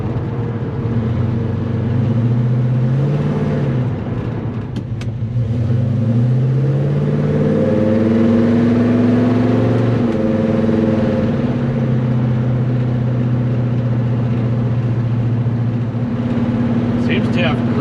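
A car engine fitted with a Holley 4165 800 CFM spreadbore carburetor idles and revs with a loud, steady rumble, rising and falling in pitch as the throttle is snapped, with someone talking over it.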